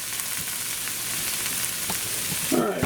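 Hamburger patties fry in a pan with a steady close sizzle and light crackling, then a brief clatter near the end.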